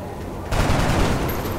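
Rookie soldier's gunfire in XCOM: a sudden, loud burst of rapid shots that begins partway in and keeps going as a dense, steady volley with no talking.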